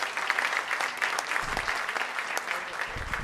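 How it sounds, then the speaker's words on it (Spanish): A crowd at a Christian music festival in Coquimbo, Chile, applauds a pastor and his wife. The clapping is loud, sustained and dense, with occasional cheers mixed in, for the whole stretch. "¡Un fuerte aplauso!"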